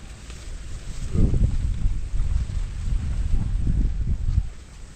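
Strong outdoor wind buffets the microphone among banana plants in low, rumbling gusts that rise and fall over a few seconds, with no talking.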